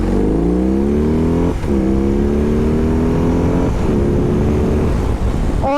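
A BMW R 18 motorcycle's 1800cc boxer engine revs hard and close, its loud droning note climbing through a gear, dropping briefly at the shift, then rising again, with no speech.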